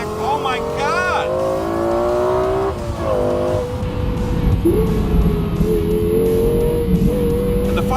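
Lexus LFA Spyder on a race track, its engine revving hard through rising and falling pitch sweeps as it accelerates and shifts, with tire squeal, loud and close throughout.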